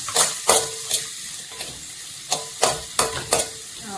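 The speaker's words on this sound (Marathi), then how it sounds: "ऑयल आणि घेतला 1 ऑनियन. एक ऑनियन घेतला. असं बरं फ्राय करून घेऊया." An onion fries in a tablespoon of oil and is stirred, giving a loud sizzle with sharp, scraping stirring strokes that come in irregular bursts roughly every half second.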